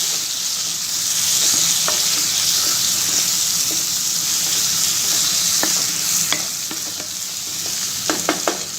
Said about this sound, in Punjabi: ਚੰਗੀ ਤਰ੍ਹਾਂ ਆਪਣੇ ਮਸਾਲਿਆਂ ਨੂੰ ਮਿਕਸ ਕਰ ਲਵਾਂਗੇ